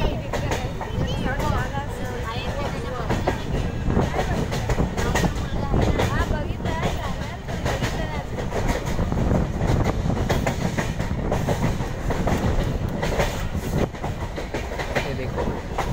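A Mumbai local train runs along the Panvel line, a loud continuous rumble with rhythmic wheel clatter heard from close by, with voices mixed in.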